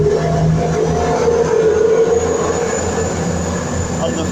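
A CrossCountry train pulling through Durham station on its service to Plymouth, with a steady, loud rumble of engine and rolling wheels across the platform and someone talking over it.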